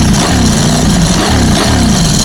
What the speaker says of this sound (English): See if you guys can hear the exhaust.